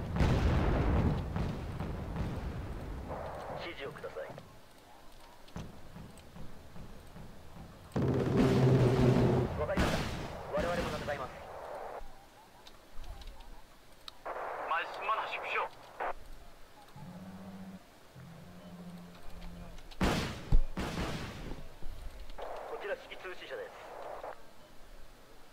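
Gunfire aimed at a landing craft in the Wargame: Red Dragon video game: scattered booms and sharp bursts of shooting, some heavy and rumbling, mixed with battle noise while someone talks over it.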